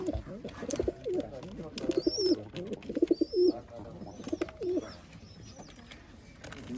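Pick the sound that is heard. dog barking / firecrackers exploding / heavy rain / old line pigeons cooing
old line pigeons cooing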